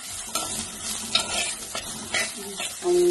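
Finely chopped ginger sautéing in a pan, a close steady sizzle broken by repeated stirring scrapes of a spoon, ending in a brief metallic clink at the end.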